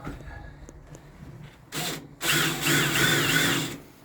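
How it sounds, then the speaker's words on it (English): Power drill fitted with a 6 mm bit boring into material aboard a boat, a short whine starting briefly, pausing, then running steadily for under two seconds, fairly quiet and close. "So, drill."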